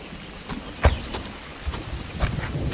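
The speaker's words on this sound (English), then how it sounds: "What do you know? It's raining." Steady rain patters on a surface, with a few louder drops and soft thumps standing out from the hiss. No voices.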